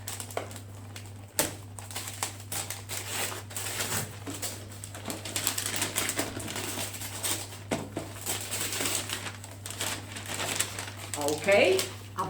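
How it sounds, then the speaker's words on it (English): Wrapping paper is torn and crumpled off a Christmas present, a busy, crackling rustle running throughout over a steady low hum, with a few louder rips near the end. "I rip all the paper."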